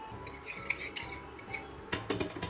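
Fresh cream being mixed into a butterscotch sauce for an eggless cake, heard as quiet clinks and scrapes of a spoon against a pan or bowl, irregular and close, with a busier burst of tapping toward the end.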